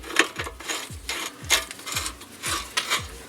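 Ratchet wrench tightening the rear strut nut on a Hyundai Elantra, seven or so evenly spaced clicking strokes with scraping between them, close and clear with no talking.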